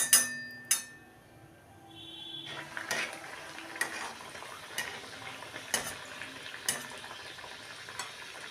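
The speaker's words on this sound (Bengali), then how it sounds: "এবারে আমি একটা একটা করে খাজা এবার ভেজে নেব।" Khaja pastries drop into hot oil and sizzle in a pan, with clinks and stirring knocks of a utensil against the vessel at intervals over a soft continuous frying hiss.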